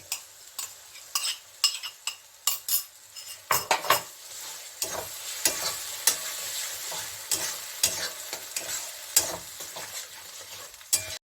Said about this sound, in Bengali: এই পালং শাকটা এর মধ্যে আমি দিয়ে দিচ্ছি